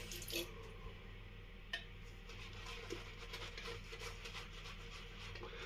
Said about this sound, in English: so we'll add some more water to thin it out